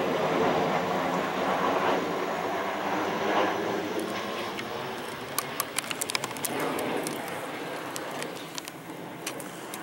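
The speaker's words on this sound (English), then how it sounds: "That plane's really low." A low-flying airplane passes over a wooded hammock campsite, its broad droning roar steady and moderately loud throughout, with faint bird chirps and small clicks scattered over the engine noise.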